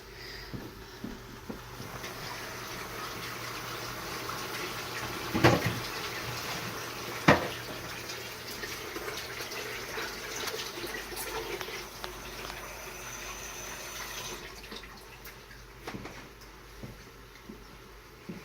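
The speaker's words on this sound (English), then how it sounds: "I'm gonna wash my hands." A kitchen tap runs steadily while hands are washed beneath it, a soft continuous water hiss with a couple of sharper clunks and splashes, fairly quiet throughout.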